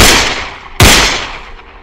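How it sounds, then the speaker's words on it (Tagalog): Gunfire in a crime account: a sharp loud blast partway through, with a long ringing decay and noisy, reverberant rumble that trails off without talk. "Ngunit dumaan pa ang 2 sunod-sunod na putok."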